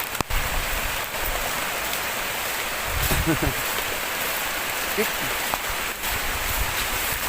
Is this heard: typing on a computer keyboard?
no